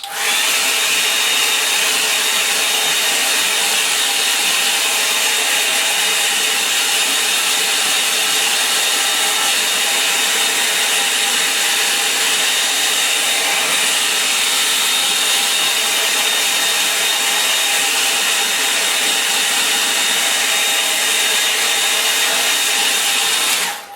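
A hair dryer blows steadily to dry a watercolour painting of a muddy stream by the Wandle, a loud, close, unbroken broadband whoosh lasting the whole time with no talking.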